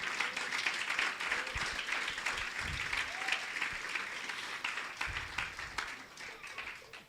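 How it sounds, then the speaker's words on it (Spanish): A church conference audience breaks into sustained applause, with dense, continuous clapping from a large crowd that holds steady throughout before thinning slightly at the end. "Vamos, alguien aplauda al Rey."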